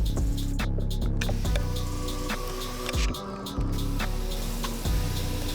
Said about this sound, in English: Spray our glass, making sure we don't get too much up here for it to roll back down on our glass.